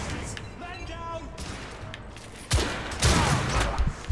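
Gunfire in The Order: 1886 played on hard difficulty, with a burst of loud broadband shots after a quieter stretch with speech, then sustained crackling fire.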